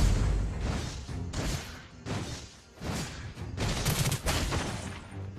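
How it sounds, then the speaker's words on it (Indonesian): Bursts of gunfire in the Sentaro video game rattle off in several loud, dense volleys with brief gaps between them, firing toward the player, with no talking over them. "Waduh guys, kita ditembak guys, gile."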